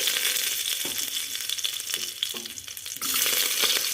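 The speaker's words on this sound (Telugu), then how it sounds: "ఒక కుక్కర్ పెట్టుకొని అందులో సరిపడ్డ ఆయిల్ వేసుకొని, కరివేపాకు" Curry leaves fry in oil inside a pressure cooker, giving a steady, bright sizzle that is close and continuous, with a sharper crackling flare near the end and no voices.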